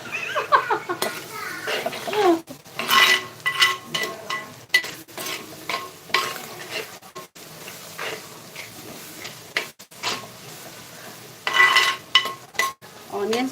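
Goat head curry stir-fried in a pan in Telangana style, with close scraping stirs, clanks of the spoon and a sizzle underneath, while people talk over it.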